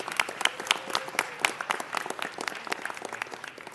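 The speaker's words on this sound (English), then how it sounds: "Let's give her another round of applause." Audience applause for a speaker at a city council meeting, a steady patter of many hands clapping indoors, moderately loud and continuous throughout.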